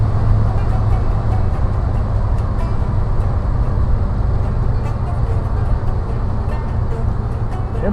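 A car drives on wet pavement, its tires producing a loud, continuous hiss and rumble of road spray with low engine drone underneath, steady and close throughout.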